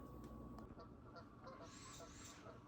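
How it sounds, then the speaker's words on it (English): Geese and ducks call outdoors at sunset, a few faint honks and quacks scattered over a low, steady ambient rumble, heard from a distance. "All the geese and the ducks and stuff are coming back in."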